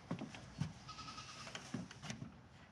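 Bottle baby goats bleat in short, faint, repeated calls, several overlapping cries spread across a quiet stretch with soft background noise.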